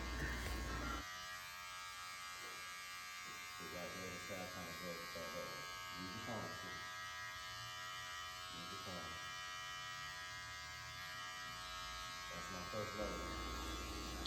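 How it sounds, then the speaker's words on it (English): Electric barber's clippers buzz steadily while cutting a boy's hair, a constant close hum running underneath someone talking throughout, with slight shifts in pitch as the blades move. "I'll go back to close clipper and start to remove my line from the bottom."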